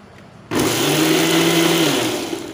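A mixer grinder blends mango pulp, switching on abruptly with a loud, steady high whir that holds for about a second and a half before winding down.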